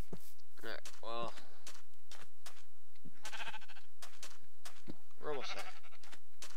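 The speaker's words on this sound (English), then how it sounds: "Just gotta harvest some of these sheep." Sheep in the video game Minecraft, FTB modpack, give two or three close, wavering bleats spaced a few seconds apart over soft in-game steps and a faint, continuous background hum.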